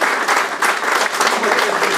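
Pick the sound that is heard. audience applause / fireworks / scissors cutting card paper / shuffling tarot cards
audience applause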